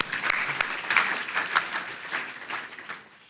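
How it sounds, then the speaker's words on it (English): An audience at an annual business meeting in Ann Arbor applauds, a dense wash of clapping that swells early, holds for a few seconds and then fades away. "Give yourselves a round of applause."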